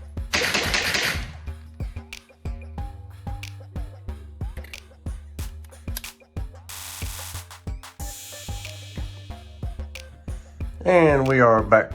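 Grand Power Stribog SP9A3 9mm pistol-caliber carbine fired at an outdoor range, sharp shots in quick strings and bursts with short gaps, loud and close, with a brief voice near the end.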